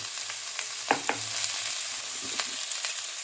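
Vegetables fry in a hot pan with a steady sizzle, broken by a few sharp scraping stirs of a spatula against the metal, close and fairly loud, with no voices.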